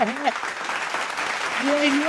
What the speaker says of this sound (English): Let's get some clapping for the Chiefs being 8-0.